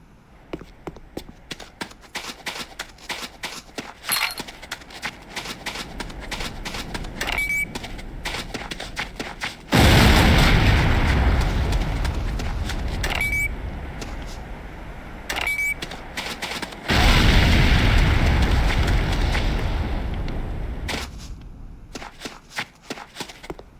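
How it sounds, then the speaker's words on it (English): Detonated charges exploding in the Command and Conquer Renegade video game tutorial, two long roaring blasts with debris rumble, each fading slowly, set between sharp clicking and tapping sounds. "move to a safe distance before detonating with your secondary fire"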